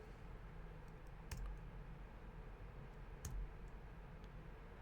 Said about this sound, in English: So now if I hit the backslash key on my keyboard,